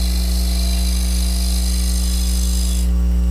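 A woodturning hunter tool cutting wood on a spinning lathe, giving a loud, steady, continuous whirring hum with a bright cutting hiss that drops away near the end.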